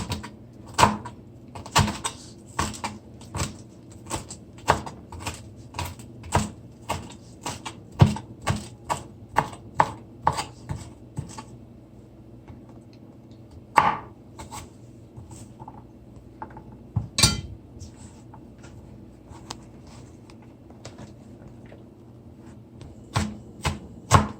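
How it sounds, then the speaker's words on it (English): Knife chops callaloo finely on a cutting board, a fast run of sharp, evenly spaced thwacks that slows to scattered single chops, with a couple of louder knocks. "I just want to chop the callaloo as fine as possible,"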